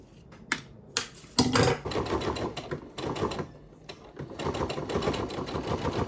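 A home sewing machine stitches a fabric bum bag with a wide stitch and matching thread, short bursts of rapid mechanical clatter starting and stopping, then a longer steady run, close and fairly quiet.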